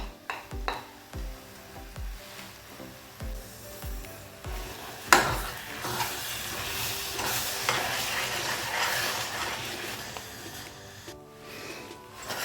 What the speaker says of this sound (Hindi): तो मैं सारा खोया इसी के अंदर ही मिक्स कर रही हूँ।